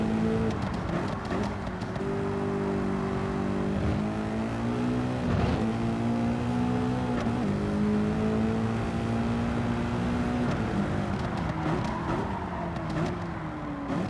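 A race car engine in Gran Turismo 7 holds a loud, steady high-revving drone with rising and falling pitch as throttle is fed in and eased off, alone without talk.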